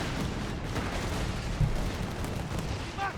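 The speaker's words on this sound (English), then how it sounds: "Sherman firing straight into the advancing Jaegers." A Sherman tank firing during battle gameplay in Company of Heroes 3, heard under dense, continuous combat noise full of gunfire and explosions, with one thump standing out around the middle.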